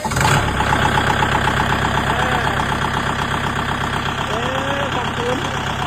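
A brand-new Kubota farm tractor engine runs steadily at idle, a loud, close, even diesel rumble throughout, with voices speaking faintly over it.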